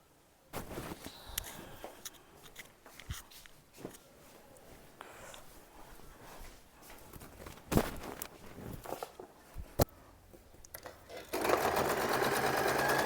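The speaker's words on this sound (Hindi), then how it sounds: "अभी ये 2 मिनट में मेरी चादर को सिल देगी" Cloth is handled with scattered clicks and knocks, then a sewing machine starts up loud and close, running steadily as it stitches the corner of a bedsheet.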